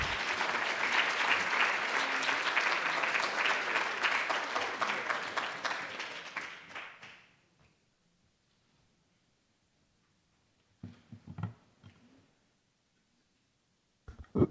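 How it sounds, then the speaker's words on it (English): An audience at a Batman soundtrack panel applauds a speaker, a dense burst of clapping that swells and then tapers to silence after about seven seconds, followed by a few faint rustles and knocks. "let's go ahead and a round of applause for Fredara Mareva Hadley"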